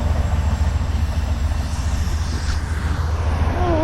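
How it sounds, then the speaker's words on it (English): A train passes close by somewhere in New England, its heavy rumbling and rolling rail noise steady and loud from start to finish, with a faint wheel squeal near the end. "Oh wow, I didn't know they had trains like that here."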